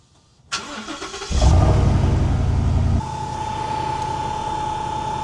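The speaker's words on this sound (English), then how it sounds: "Now, once I fire up the truck, you will hear the fan ramp up" A truck engine cranks and catches, revving loudly before settling to a steady idle with a constant whine from an alternator charger cooling fan running over it.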